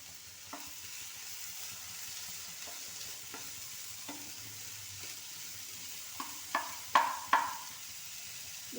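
Onion and tomato sizzle quietly in a pan while a spoon stirs, with soft frying hiss under a series of sharp utensil knocks against the pan that grow louder near the end.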